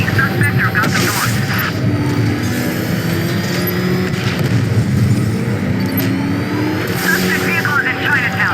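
Vehicle chase in Batman Arkham Knight, with a loud continuous engine roar and rushing motion noise, rising bursts of impact or blast near the start and end, and a radio voice talking over the action.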